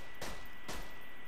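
Two sharp, distinct pistol bursts from a Dahl pistol in Borderlands 2 ring out about half a second apart, each a quick cluster of shots, clear and unaccompanied by speech.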